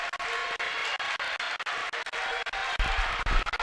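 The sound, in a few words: basketball game crowd cheering in the stands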